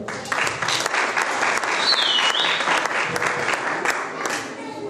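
A church congregation at a special Christmas Eve service bursts into sustained loud applause, thick continuous clapping with a faint whistle-like tone rising briefly in the middle.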